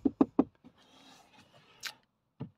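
Three quick hollow knocks on a hard plastic door panel inside a 2022 Citroën ë-C4 electric car, close and crisp, followed by a soft rub, a light tap and one last knock.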